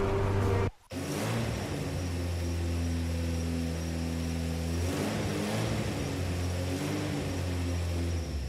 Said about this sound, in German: Motor starten.